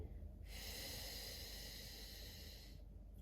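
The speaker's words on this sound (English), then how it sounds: "Exhaling." A long, steady breathy exhale rushes out for about two seconds during a Pilates exercise with arm weights and a ball, loud and close with no talking over it.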